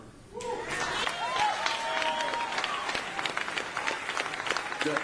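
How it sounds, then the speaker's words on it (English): Audience members applaud at a public information meeting on the Maryland Piedmont Reliability Project, a sustained, fairly even crowd clapping that starts abruptly and continues throughout, with a few voices mixed underneath. "Don't clap yet."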